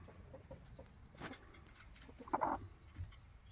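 Korean native hens brood over eggs in a coop at dusk, letting out soft, low clucks and cooing murmurs. A brief louder cluck comes partway through, with quiet rustling between the calls.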